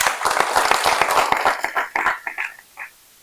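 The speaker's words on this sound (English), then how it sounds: "Can we clap hands for that?" An audience claps hands at a national science innovation projects competition, a dense burst of applause that thins into a few scattered claps and then stops.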